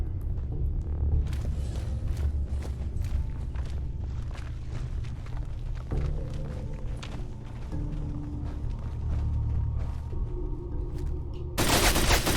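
Heavy gunfire from a powerful gun in Fallout 4, a dense run of loud repeated shots over a constant low rumble with a brief louder burst at the very end.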